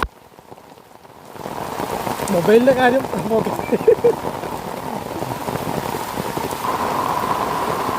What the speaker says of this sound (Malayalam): അതിഭയങ്കരമായ മഴയാണ്